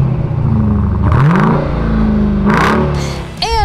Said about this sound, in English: It also has a high performance exhaust that sounds amazing.